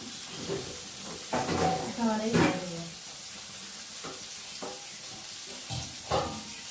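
Pointed gourd (potol) fries on a tawa with a quiet, steady sizzle, broken by occasional scraping and stirring sounds and brief bits of nearby speech.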